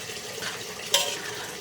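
A pot of water for okra soup is stirred, making soft swishing and sloshing with a single sharper clink of a utensil against the pot partway through, fairly quiet overall.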